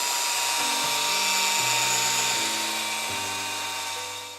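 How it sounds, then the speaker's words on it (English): A high-pitched drill whines continuously while boring out a fly rod handle, its motor pitch stepping up and down as the load changes, loud and close, with no talking. "you're going to want to try to drill out the walls of it differently"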